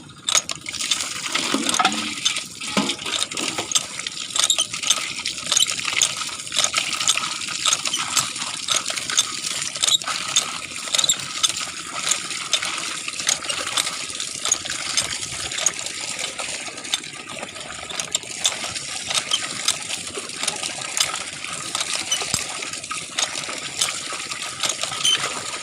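Water is poured and trickles into a basin for a long stretch, a steady splashing with irregular drips and gushes, close and fairly loud with no talking.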